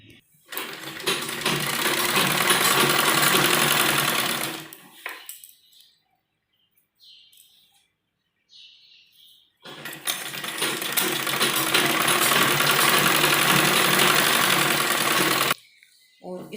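A sewing machine stitches the seams of a girl's net baby frock in two long, steady runs of loud motor whir, separated by a few seconds of near silence, then a brief restart at the end.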